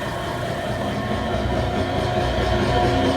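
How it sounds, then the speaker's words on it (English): A Biro AFMG52-4 mixer grinder runs steadily, giving off a continuous mechanical drone with a humming tonal whine and a faint rattling texture throughout. "Go ahead and start the mixer again, and then the grinder."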